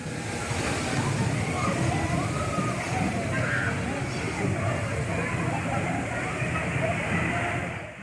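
Water sloshes and splashes steadily at the Hawaii-themed interactive water play system of GRS Fantasy Park in Mysore, a continuous dense wash with indistinct crowd voices mixed in.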